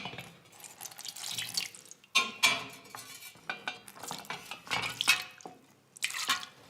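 Water is poured into a wooden butter churn in the historic dairy at Audley End House, Essex: uneven splashing and gurgling bursts, close and fairly loud, with brief pauses between pours.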